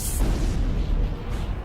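A deep, rumbling supernova explosion effect for a space documentary, a loud sustained low boom with a brief bright burst at the start, rolling on steadily with no voices.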